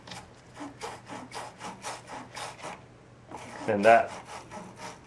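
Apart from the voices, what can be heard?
scrubbing corrosion off a car battery post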